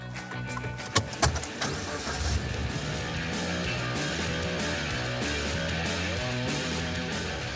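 A Suzuki Jimny 4x4 rolling along a rough, bumpy road in Madagascar, a steady cabin rumble and drone with a couple of sharp knocks early on, no talking.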